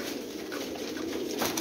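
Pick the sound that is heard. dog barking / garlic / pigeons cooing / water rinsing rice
pigeons cooing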